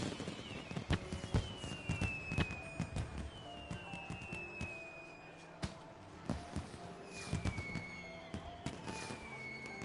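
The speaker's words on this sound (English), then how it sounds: "Fireworks!" Fireworks in Final Fantasy XIV Endwalker burst in a rapid series of close, sharp pops and cracks, with whistling streaks arcing between the bangs.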